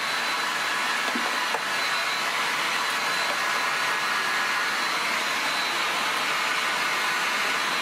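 Steady loud blowing roar of a heat gun shrinking a plastic bottle into a canopy for an RC Avanti pattern plane, continuous and close throughout with no talk.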